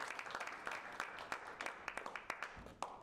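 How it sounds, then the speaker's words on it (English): Scattered applause from a small audience at a tech meetup, a few distinct hand claps repeating unevenly, quiet and somewhat distant. "Let's give him a round of applause for coming and being with us."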